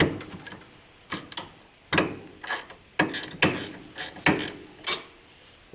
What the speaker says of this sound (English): It's nice to have these ratchet end wrenches for working on just about everything.